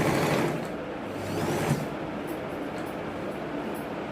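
An electric sewing machine stitches red cloth for a girl's overcoat, a short burst of rapid rattling at the start that fades into quieter background hum.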